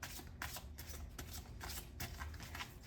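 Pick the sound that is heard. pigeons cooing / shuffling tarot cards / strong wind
shuffling tarot cards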